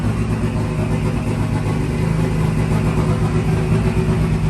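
Nissan S13 with an SR20 engine idling on a dyno, a loud, steady, droning rumble that holds without change throughout.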